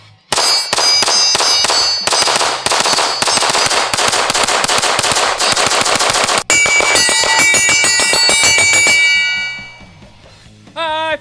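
A Vulcan Machine Werks XL pistol with an Ignis port fires fast strings of shots at a steel target about 50 yards downrange. Each shot brings a bright, ringing metallic clang, a brief gap splits the volleys, and the ringing dies away at the end.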